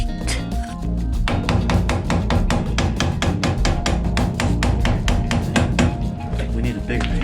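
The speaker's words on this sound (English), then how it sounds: "I think we need a bigger hammer is what we need." Repeated metal-on-metal hammer blows strike the axle of a 1963 Studebaker Champ truck during brake and axle work, a steady rapid series of loud close impacts filling the whole stretch.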